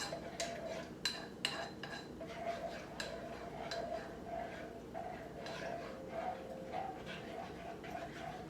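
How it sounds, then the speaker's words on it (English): Milk, butter and flour are stirred in a pot with a utensil, producing quiet scraping and repeated clinks against the metal, near but faint, at an irregular rhythm. "Try to stir it a little rapidly so that way you can break down the butter and flour into the milk"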